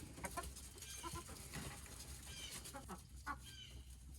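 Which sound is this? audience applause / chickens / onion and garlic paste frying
chickens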